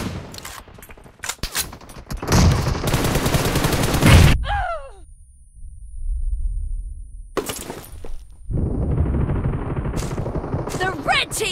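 Rapid bursts of automatic gunfire crackle during an 8-versus-8 arena video game team match, coming in loud clustered volleys separated by brief quiet gaps, with no talk.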